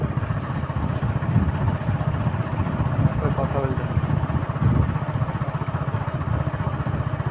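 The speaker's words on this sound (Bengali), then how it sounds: "এই যে আমরা রাস্তা দিয়ে যাচ্ছি মোটর সাইকেলে করে" A motorcycle rolling along a village road in the evening, with a steady, close engine drone and rumble throughout, and a voice speaking over it.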